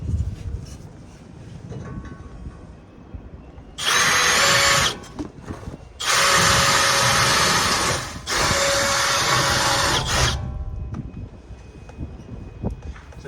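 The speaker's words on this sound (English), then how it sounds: "And then I'm going to drill that second hole." A power drill whirs loudly in three long bursts, revving high while boring holes to mount a side ladder on a Sprinter van, with quiet pauses and faint handling noise between runs.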